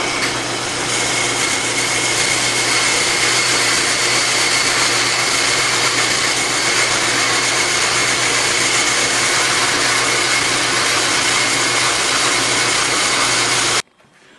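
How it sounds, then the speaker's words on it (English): A metal lathe with a four-jaw chuck bores a hole into a wooden saltshaker, giving a loud, steady whirring and rubbing roar that runs unbroken before cutting off abruptly at the end. "Now I stick it in the metal lathe in the four jaw chuck and tighten it down. The next step is to bore the hole for the salt."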